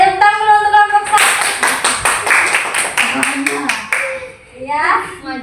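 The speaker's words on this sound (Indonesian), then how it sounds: "tepuk tangan dulu untuk kelompok" A classroom group of children claps together in bursts of applause after a group presentation, with a teacher's voice and kids' chatter around the clapping.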